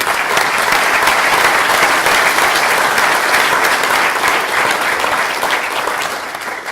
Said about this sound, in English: let's give a quick round of applause for all these people